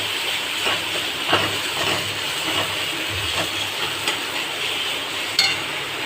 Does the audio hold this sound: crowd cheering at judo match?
no